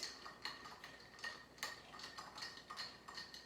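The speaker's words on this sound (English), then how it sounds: "let's do the proper way today of making a Manhattan. And that is to stir it." A bar spoon swirls ice in a mixing glass while stirring a Manhattan cocktail, giving a quiet, steady series of light clinks and ticks in a loose rhythm, close by and alone.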